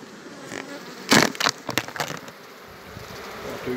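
Honey bees hum around an opened beehive, a low continuous buzz near the listener, joined midway by a burst of crunching and handling noises as the hive is worked.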